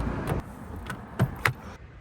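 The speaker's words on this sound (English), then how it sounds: "let's go pop the bonnet and see what's under there" The bonnet of a performance car with a 2-litre TFSI engine is popped open: a few short mechanical clunks and clicks sound nearby, including a latch release and a sharper knock near the end, over quiet room noise.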